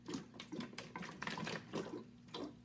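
Water gurgling from one bottle into another in a two-bottle tornado experiment, irregular glugging and sloshing bursts, close and fairly quiet.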